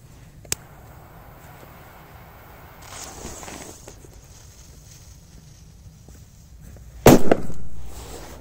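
A big firecracker explodes on ice with one sharp, loud bang near the end, followed by a brief rushing tail, after quiet outdoor ambience with a faint click and some shuffling.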